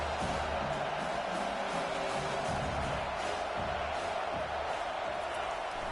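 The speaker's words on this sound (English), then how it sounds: "this crowd coming to life here, trying to help the defense get a stop" Stadium crowd in an American football video game swelling and roaring steadily as the defense tries to get a stop, a dense continuous wall of cheering that holds loud throughout.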